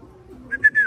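Pigeons coo in a short burst of soft, rounded calls, two or three quick notes close by against a quiet background.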